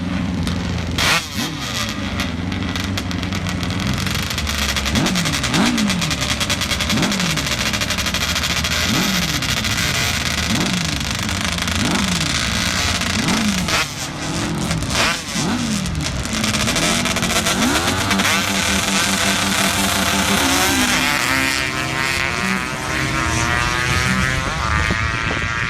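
Pro-class drag racing motorcycles roar down the strip at a national event, revving in rapid repeated bursts before settling into a sustained, loud, high-pitched engine scream that fills the whole stretch.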